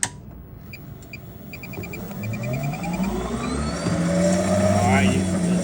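Club Car 48 V electric golf cart accelerating, its motor whine rising steadily in pitch and growing louder over several seconds, with a voice talking over it.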